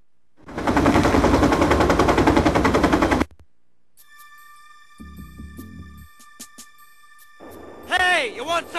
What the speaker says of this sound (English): If something moves, shoot it.